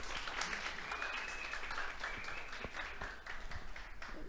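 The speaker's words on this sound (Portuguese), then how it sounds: "pedir uma salva de palmas" An audience at a São Paulo forum of Olympic athletes applauds as a South American champion athlete arrives: a faint, distant, continuous patter of many hands with a few sharper claps standing out.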